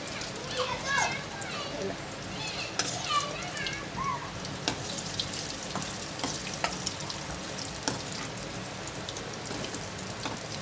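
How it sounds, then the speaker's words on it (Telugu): Chicken pieces deep frying in oil make a steady, dense crackle and sizzle with scattered pops, and a voice talks over the frying throughout. "ఇప్పుడు చికెన్ ముక్కల్ని డీప్ ఫ్రై చేసుకుందాం"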